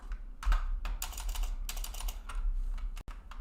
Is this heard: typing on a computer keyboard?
yes